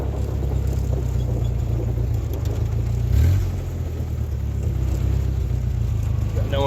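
A 1956 Willys Jeep CJ5, freshly tuned up, drives along with a steady low engine rumble and a brief rev near the middle, loud and close throughout.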